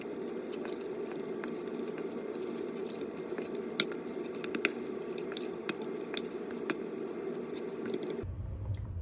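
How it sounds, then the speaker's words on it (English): A light mayonnaise mixture stirred in a bowl, producing close, wet squishing and small sticky clicks in an irregular rhythm, steady throughout, then stopping abruptly near the end. "So I'm gonna give this a stir and see how that's looking."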